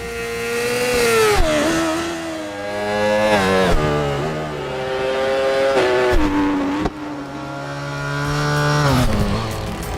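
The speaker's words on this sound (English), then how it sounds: "Real enthusiasts can guess a bike by its sound even before seeing it." Simulated superbike engine from a racing video game, revving loudly and continuously with rising and falling pitch sweeps as the bike accelerates and shifts gears, close and alone without voices.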